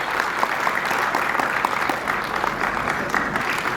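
Convention audience welcoming guests at a national conference inauguration with steady, loud applause, many hands clapping evenly throughout.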